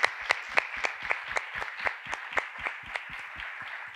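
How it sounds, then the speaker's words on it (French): Applause for a contestant at a Ma thèse en 180 secondes final, sparse and rhythmic, with a few distinct claps landing in an even beat, moderately close and with no talk. "On peut applaudir Alison."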